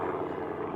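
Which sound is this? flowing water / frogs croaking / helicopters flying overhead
helicopters flying overhead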